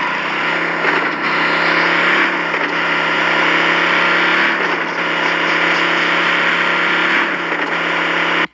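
A car engine in PUBG Mobile drones loudly and steadily, with the pitch rising and falling in a few waves as it accelerates, with no voices.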